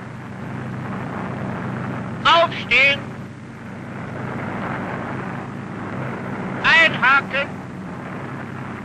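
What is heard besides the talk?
aircraft engine noise through open door before parachute jump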